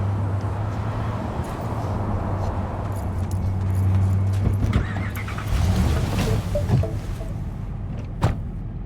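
A car driving in Cyberpunk 2077: a steady low engine hum holds under street ambience, then shifts as the car moves off, with a few sharp knocks and clicks near the end.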